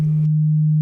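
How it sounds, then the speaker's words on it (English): A synthesizer oscillator module outputs a steady, pure cosine-wave tone, a loud low hum that holds unchanged throughout, with a brief rush of noise at the start. "cosine wave"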